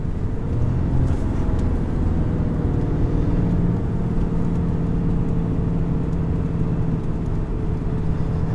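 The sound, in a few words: 2020 Ram 3500HD Cummins diesel truck engine pulling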